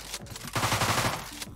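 A revenant shot fired point blank in the DEADBOLT video game, a loud rapid burst of gunfire lasting about a second, heard alone.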